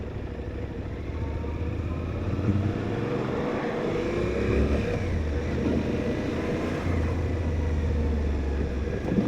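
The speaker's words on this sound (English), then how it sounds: "I'll let this car pass." A car passes a Suzuki DL800 V-Strom motorcycle on a road, its rising and falling whoosh laid over the bike's steady engine drone and wind rumble.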